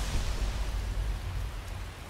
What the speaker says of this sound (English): so we can we can make a camp if it stops raining